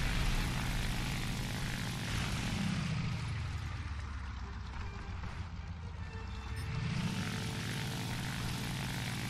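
Droning propeller engine of a Ki-43 II fighter plane in War Thunder gameplay, a steady loud buzz that sweeps down and back up in pitch as it passes or turns, with no talk.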